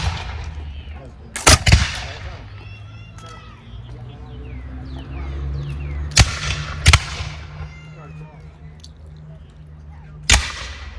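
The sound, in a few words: gunfire at 1777 Siege of Fort Harrod reenactment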